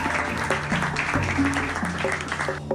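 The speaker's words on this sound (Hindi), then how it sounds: "सरपंच की ये झूठी बातें सुनकर सारे लोग ताली बजाने लगते हैं" A crowd of villagers claps together in a burst of applause, dense and continuous, with music and voices layered over it.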